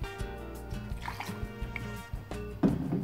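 Gin is poured into a cocktail glass filled with ice, a short, close trickle and drip of liquid over ice with small clinks toward the end.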